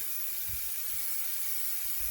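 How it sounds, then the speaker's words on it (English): A steady, close aerosol brake cleaner hiss sprays continuously on a 1991 Ford F-150's front brakes, bright and airy, with a few soft low thumps beneath. "So I'm just going to use my brake clean."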